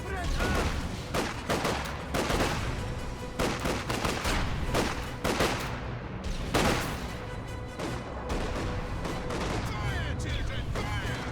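Gunfire in the Company of Heroes 2 video game, with rifle and machine-gun bursts and heavy artillery thuds in a busy Soviet battlefield. Sharp shots crack in rapid irregular volleys for the full stretch, loud and continuous.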